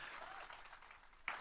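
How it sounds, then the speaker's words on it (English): Audience applause at a community chamber of commerce annual meeting, a steady wash of many hands clapping at moderate distance through the whole stretch, with a brief sharper accent near the end. "you are giving yourselves a round of applause"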